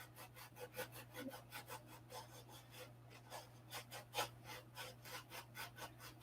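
Wood blocks sanded by hand for a model aircraft build, a soft rhythmic rasping of repeated back-and-forth strokes, steady and close, over a constant low electrical hum.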